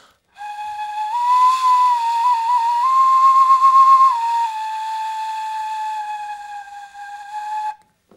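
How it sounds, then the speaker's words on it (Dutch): Ancient stone flute from a Guatemalan excavation, dating to around 500 BC, sounding one long, loud, breathy whistling tone that wavers and rises briefly in the middle before settling, heard alone. "Dit is een stenen fluit uit Guatemala."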